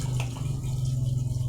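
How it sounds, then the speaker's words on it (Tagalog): A little water poured into ampalaya (bitter gourd) cooking in a pan, a steady close splashing gush of water that runs for the whole short moment. "Lagyan po natin ng konting tubig"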